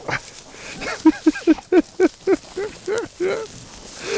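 A dog on a farm where ducks and geese winter lets out a rapid series of about ten sharp, evenly spaced barks close by, with faint background noise between them.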